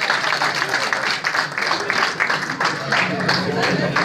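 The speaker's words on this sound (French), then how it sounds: "Je vous demande maintenant de m'applaudir." Applause rises from an audience at a West African security conference, loud, close and ragged, with clustered bursts of clapping and some crowd murmur mixed in over several seconds.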